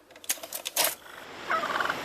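Wild turkeys in a Montreal borough gobble in short, rapid rattling bursts, fairly close and loud, followed by a softer chattering call over outdoor background noise.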